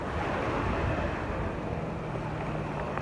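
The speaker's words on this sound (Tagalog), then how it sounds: "Lakas pa ng hangin guys." Strong wind roars steadily across the microphone on a rainy evening at a bus stop in Madrid, a dense, continuous rush of noise with a low rumble underneath and no talking.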